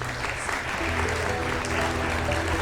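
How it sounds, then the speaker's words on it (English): An audience at a college financial literacy Q&A applauds the panelists with steady, even clapping at moderate loudness. A low hum and some voices sit underneath. "So round of applause for our 4"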